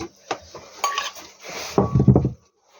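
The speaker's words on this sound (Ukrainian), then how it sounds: "І гарно перемішую." A spoon scrapes and clinks around a pot while lazy cabbage roll mixture of cabbage and meat is stirred, a few sharp metal knocks followed by a louder burst of wet scraping, then quiet.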